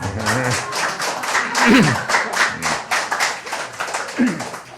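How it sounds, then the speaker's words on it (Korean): Scattered clapping from a seminar audience in a hall, a loose patter of hands that rises and falls in uneven bursts, with voices murmuring underneath. "박수 좀 치십시오"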